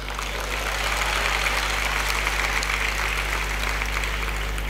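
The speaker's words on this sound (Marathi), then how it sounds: "आत्ता जशा तुम्ही टाळ्या वाजवल्यात ना" An audience claps in a college auditorium at K. K. Wagh College, dense continuous applause held at an even level throughout.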